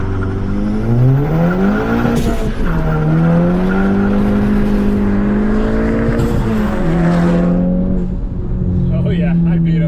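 APR-tuned car accelerating hard from a standstill to 60 mph with traction control off, engine note rising through gear changes, loud and close with talk over it.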